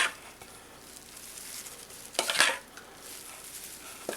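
Salad dressing is stirred in a container with a utensil, quiet scraping and clinking building to a brief burst of louder clattering before settling back to soft stirring.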